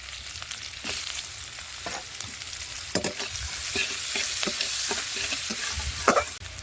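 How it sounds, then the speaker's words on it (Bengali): Chopped onion, crushed garlic and slit green chilli fry in a fish-frying kadai with a steady close sizzle, broken by a few sharp spatula clacks and stirring scrapes against the pan. "মাছ ভাজার কড়াইতে দিয়ে দেবো আমি কুচিয়ে রাখা পেঁয়াজ থেঁতো করা রসুন আর চেরা কাঁচা লঙ্কা"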